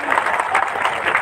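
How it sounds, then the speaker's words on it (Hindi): An audience claps together in a short, steady burst of applause, with a faint murmur of voices in the background. "एक तो ताली बजाओ यार"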